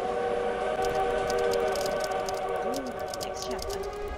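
A train in a video game rumbles with a steady drone and sounds a short whistle, while a voice talks over it throughout.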